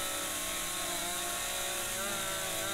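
A chainsaw runs continuously while cutting wood, a loud, steady high-revving drone with a buzzing harmonic whine that barely shifts, close by and without speech.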